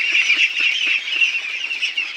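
A flock of Pekin ducks on a farm keeps up a dense, continuous chorus of calls, steady and fairly close, with no talking over it.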